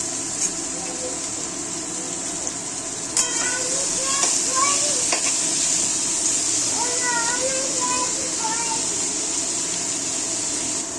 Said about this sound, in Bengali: প্রথমে পেঁয়াজটাকে কুচিয়ে ভাজা দিচ্ছি।